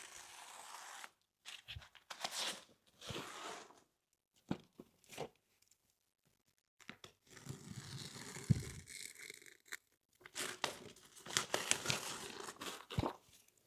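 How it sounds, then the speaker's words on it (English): Excess architectural vinyl wall wrap is sliced and torn away in close, faint bursts of crinkling, ripping and scraping, with irregular pauses and near-silent gaps between strokes and no talking. "we're going to cut off extra material"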